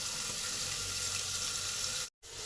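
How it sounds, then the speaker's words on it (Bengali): Potatoes and beans fry in a covered pan, making an even, muffled sizzle with soft bubbling that is close and steady, broken by one short silent gap near the end. "এবারে আমি 5 মিনিটের জন্য চাপা দিয়ে দিলাম, যাতে আলু আর বিনসটা ভালোভাবে সেদ্ধ হবে আর ভাজা ভাজা হবে।"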